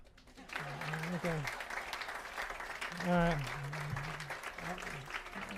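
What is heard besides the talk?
audience clapping at preschool opening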